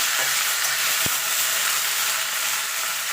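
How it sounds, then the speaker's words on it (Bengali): Mixed vegetables with spinach stalks fry in a hot pan, a steady, close sizzling hiss that runs unbroken, with one soft knock of a utensil partway through. "এবার সবজিটাকে আমি ভালো করে একটু ভেজে নেবো"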